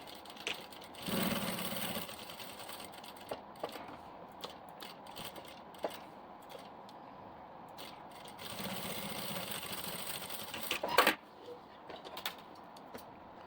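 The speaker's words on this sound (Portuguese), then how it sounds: "vou passar uma costurinha nos dois lados aqui do meu bolso" A sewing machine runs a short seam along both sides of a pocket on a diaper bag. It makes two brief whirring bursts separated by quiet handling noises, with a sharp click near the end.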